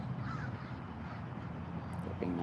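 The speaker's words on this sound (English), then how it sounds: "Did you hear those birds?" Crows give a few harsh caws over a constant low wind-like rumble, calls faint and spaced apart, no speech.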